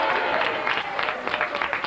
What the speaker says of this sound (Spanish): Un aplauso para Clavito